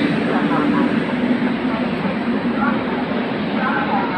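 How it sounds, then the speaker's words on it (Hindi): A loud, steady train engine rumble with a low hum fills a busy railway platform, continuous throughout. "आपको आवाज़ भी आ रही होगी और आपको इंजन का शोर भी आ रहा होगा"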